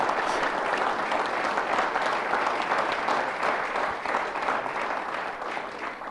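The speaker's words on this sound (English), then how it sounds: "Let's give these new legislators a round of applause" A legislative chamber audience gives sustained applause to newly seated county legislators, a thick, continuous roar of many hands clapping at moderate loudness without a break.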